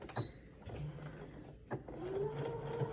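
Serger overlocking the edge of a cloth diaper, a near mechanical whir with a steady tonal hum and faint ratcheting, briefly interrupted before running again.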